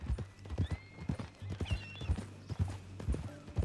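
Horse hooves clip-clopping in the Western video game Red Dead Redemption 2, a steady uneven rhythm of close, crisp hoof strikes on hard ground, with a brief whinny and faint ambient background.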